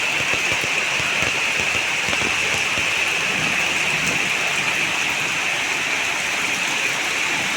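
Heavy rain pours without a break, a loud, dense, even roar heard from shelter under a shop shutter, with no voices.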